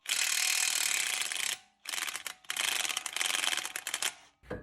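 Ratchet working a 36mm axle nut loose on a 1992 Honda, rapid close clicking in three loud runs separated by short pauses, with no talking.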